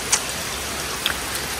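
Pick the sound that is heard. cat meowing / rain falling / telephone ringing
rain falling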